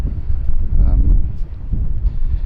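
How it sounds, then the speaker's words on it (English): Wind buffeting the microphone on the upper deck of a Mondomarine 120 superyacht, loud low rumbling gusts that rise and dip, with someone speaking briefly. "it's a little bit windy up here"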